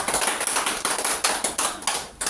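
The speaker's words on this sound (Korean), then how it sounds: "정연석 원장님을 큰 박수로 모시겠습니다" An audience claps in welcome for a lecturer at a Korean health talk on water, producing dense, steady applause with no voices for about two seconds.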